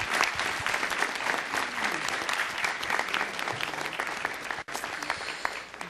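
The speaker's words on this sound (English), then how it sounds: "So everyone, please give these kids a big round of applause." An audience at a city council meeting applauds a group of kids with steady, dense clapping that fills the room and holds even in volume, then dips briefly near the end.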